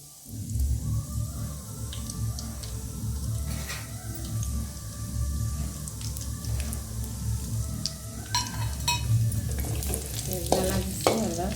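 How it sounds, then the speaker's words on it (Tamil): Raisins frying in hot oil or ghee in a pan while cooking kesari, with a steady close sizzle and bubbling, occasional stirring scrapes and crackles, no voices. "இந்த திராட்சை வந்து நல்லா புஷ்ஷுன்னு உருண்டையே வரும் பாருங்க."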